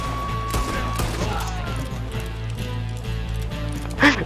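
Gunfire in Red Dead Redemption 2 during a Valentine bank robbery, with scattered shots over a steady game score and one louder, sharper blast just before the end.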